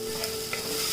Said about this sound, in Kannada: ಈರುಳ್ಳಿ ಫ್ರೈ ಆಂಡು ಮತ್ತೆ ಟೊಮೆಟೊ ಪಾರ್ದು ಟೊಮೆಟೊ ಚೂರು ಸಾಫ್ಟ್ ಆನಂತ ಫ್ರೈ ಮಾಡಿದ್ರೆ